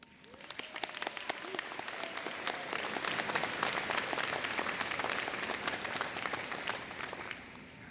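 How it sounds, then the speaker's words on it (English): A commencement audience gives sustained applause at a graduate ceremony, with dense clapping rising quickly and holding steady for several seconds in a large hall, with faint crowd murmur underneath. "join me now in applause"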